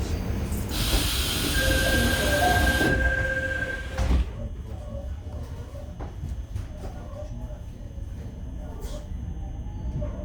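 An old-model Suin-Bundang Line subway train runs with a loud, close roar and a thin wheel squeal, then drops abruptly to a quieter steady rumble with faint clicks, and a voice is heard over it.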